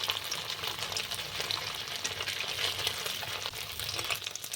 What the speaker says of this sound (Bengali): পনিরগুলো ভাজা হয়ে গেছে, এবার তুলে নিচ্ছি।